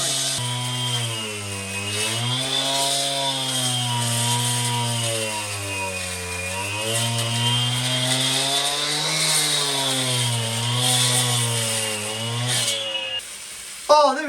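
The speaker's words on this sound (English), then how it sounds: "Now we're going to cut on the inside all the way down, drill through to about the corner" A power saw whines steadily through a long cut, its pitch rising and falling as the load changes, loud and close, then cutting off at the end.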